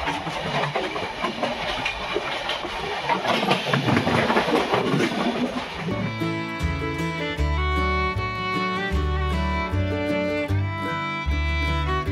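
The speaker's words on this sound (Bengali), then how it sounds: "আরও একটা ট্রেন ঢুকছে" A train rolls into Howrah station with a broad, dense rumble and clatter for about six seconds, after which music with a steady beat takes over.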